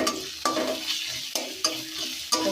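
Ginger garlic paste frying for a chicken curry with papaya is stirred in a pan, the spoon scraping in several sharp strokes over a steady sizzle, close and without speech.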